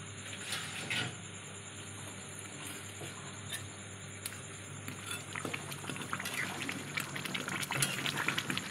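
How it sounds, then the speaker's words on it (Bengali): Koi fish curry gravy comes to a boil in a pan, soft bubbling and patter that grows busier and louder toward the end, with no voices. "দেখো এদিকে ঝোল ফুটতে শুরু করে দিয়েছে।"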